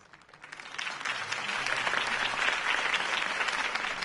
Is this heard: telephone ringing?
no